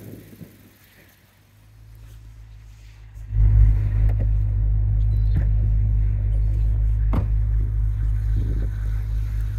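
A 2008 Audi RS4 with a JHM exhaust and six-speed manual pulls away, its engine rising from a quiet idle into a loud, steady, deep rumble as it drives on.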